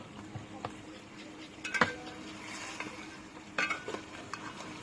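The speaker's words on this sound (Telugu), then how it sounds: "అత్తమ్మనే వండుతుంది కానీ నేను ఇప్పుడు కలుపుతున్నా" Chicken curry stirred in a frying pot, a spoon scraping and clinking against the metal at intervals over a low steady sizzle, close by.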